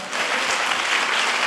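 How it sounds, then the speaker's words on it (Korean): A church congregation applauds during a worship service, a dense, continuous wash of clapping heard close and alone, with no voices over it. "우리 주님께 감사의 박수 올려드립시다."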